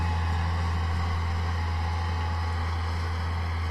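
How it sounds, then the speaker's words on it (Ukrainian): A steady engine rumble comes from a tractor on autopilot, pulling a seed drill that direct-sows sunflower after alfalfa. The hum stays even and close from start to finish, with no speech over it. "Трактор сіє на автопілоті."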